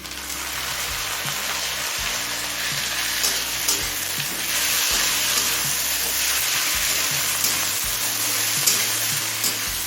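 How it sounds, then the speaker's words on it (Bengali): Chopped tomato fries with browned onions in a pan for chicken ghugni, a loud continuous close sizzle with a dense hiss throughout and faint low stirring knocks underneath. "এবার টমেটো নরম হয়ে আসা পর্যন্ত ভেজে নেব"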